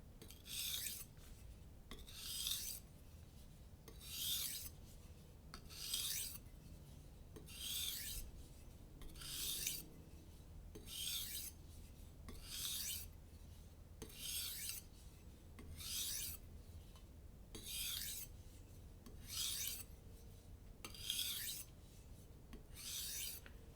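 A knife blade is drawn across an Arkansas sharpening stone with no added pressure, producing a steady series of about a dozen evenly spaced rasping strokes, close and clear with no talking.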